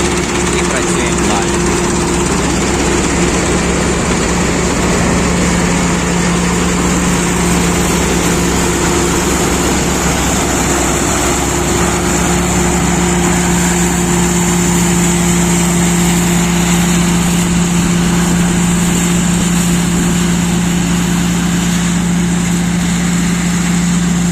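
A Sampo 500 combine harvester engine drones steadily and loudly while threshing grain, a constant mechanical hum with a faint voice underneath.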